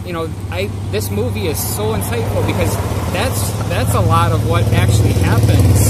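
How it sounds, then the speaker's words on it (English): Continuous road traffic rumble from passing vehicles runs beneath a person talking, growing slightly louder toward the end. "Sorry about the road noise."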